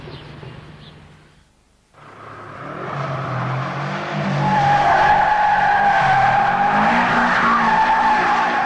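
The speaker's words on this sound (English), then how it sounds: "we hadn't seen a WRX oversteer before" A Subaru WRX oversteers, its tyres skidding in a loud, sustained squeal that rises over the engine's revving roar, after a brief dip in the sound near the start.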